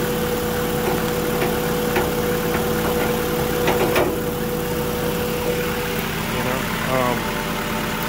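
Steady, close idle of a 1999 Honda Civic Si engine, an even mid-pitched hum with a faint ticking texture that holds throughout.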